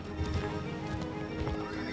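A horse rears and neighs loudly close by, with heavy hoof clatter and stamping running under the whinnies for the whole stretch.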